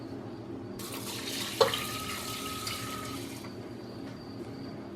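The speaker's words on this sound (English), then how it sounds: "Add the rice to the cooker along with 2 cups of water" Water runs from a tap into a rice cooker pot holding uncooked rice, a steady close splashing rush lasting about two and a half seconds before stopping, with no talking.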